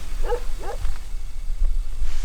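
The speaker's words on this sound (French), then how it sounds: "J'ai fait une petite rencontre avec 6 ou 7 chiens qui n'étaient pas très contents de me voir" Dogs bark at a cyclist on a road in Portugal, two quick yapping barks over steady wind rumble, followed by fainter scattered sounds.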